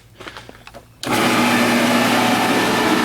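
A refrigerant recovery machine for the AC of a 1991 Mercedes-Benz 300SL switches on after a few quiet clicks and handling sounds, then runs as a loud, steady motor whine and hum, close and alone.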